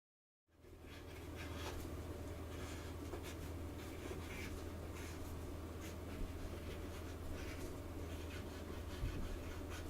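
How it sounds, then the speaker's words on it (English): A pencil pressed down firmly while tracing over a drawing outline to transfer it onto a surface for an oil painting, giving a steady, close, continuous scratchy scraping with no talking. "I'm using a pencil here, and you just press down firmly and you go over the outline here to transfer this"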